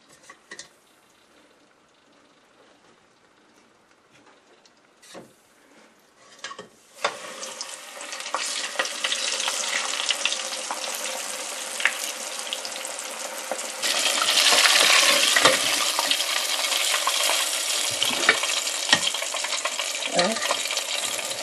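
Fish sizzling in a home deep fryer, the frying starting quietly after a few clicks and knocks, then a steady loud broadband hiss and crackle that swells further midway and continues unbroken.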